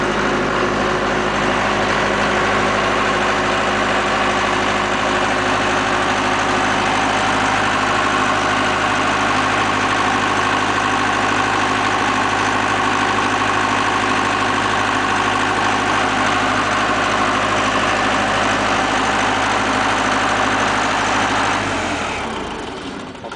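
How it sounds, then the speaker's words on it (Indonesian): A Multipro SDG 30000 AS diesel generator runs steadily during its cool-down, a loud constant engine hum that fades out and stops near the end. "Nah, genset ini sedang melakukan pendinginan."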